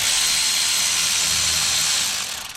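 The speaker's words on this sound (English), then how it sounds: "So instead, use an electric wrench." An electric wrench loosens long bolts on an accessory shaft, a steady loud whirring drone for over two seconds that trails off at the end, close up with no speech.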